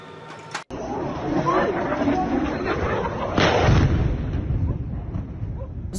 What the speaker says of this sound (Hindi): जोरदार धमाकों की आवाज से लोग सहमे हुए हैं, डरे हुए हैं।